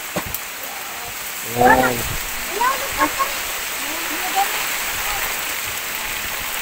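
Heavy rain pours in a steady broadband hiss, with the downpour coming even indoors; brief voices and a few short knocks rise above the constant roar.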